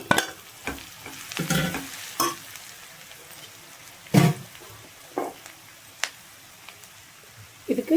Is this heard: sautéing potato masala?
yes